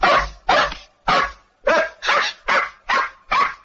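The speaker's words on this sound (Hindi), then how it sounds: "वरना ये शिकारी कुत्ते तुम्हें चबा डालेंगे।" Hunting dogs bark in a series of eight loud, close, sharp barks at an even, insistent rhythm with short gaps between them.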